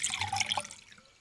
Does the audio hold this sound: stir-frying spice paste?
no